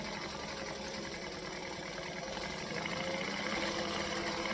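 Quiet, continuous whirring of a sewing machine running steadily as it stitches around an altered fabric piece, heard faintly and without pause.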